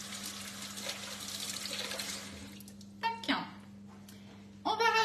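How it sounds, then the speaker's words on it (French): Hands are rinsed under a running kitchen tap during live preparation of a pear and chocolate Yule log: a steady close water hiss for three seconds, then it stops and brief splashes and handling noises follow. "je me rince les mains"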